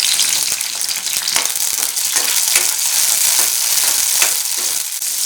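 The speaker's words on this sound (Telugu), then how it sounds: "పచ్చిమిరపకాయలు ఒక పదిహేను తీసుకోండి సగాన్ని కట్ చేసుకుని వేయించుకోండి అప్పుడు మన మీదకి పేలకుండా ఉంటాయి" Halved green chillies fry in hot peanut oil, a loud, dense, continuous sizzle with crackling spits throughout, heard up close with no talking.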